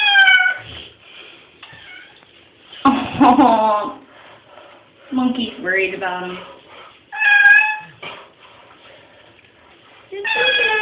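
A cat meows and yowls repeatedly during a bath, loud distressed cries recurring in bursts, with a person talking soothingly between and over them.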